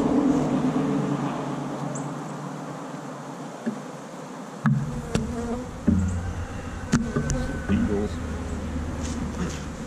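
Bees swarm and buzz around hives in an apiary as the hives are moved, a dense, continuous drone close by, with occasional knocks and clatter from the hive boxes and a person speaking now and then.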